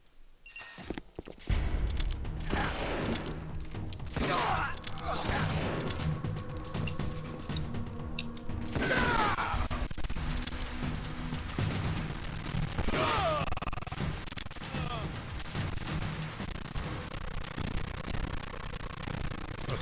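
Gunfire in Metal Gear Solid: The Twin Snakes, dense bursts of shots and crashing impacts that keep up steadily for the whole stretch, loud and close, with no talk over it.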